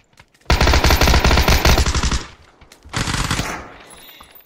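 Bursts of rapid automatic gunfire from a video game, a loud dense stretch of shots followed by a second shorter volley after a brief pause.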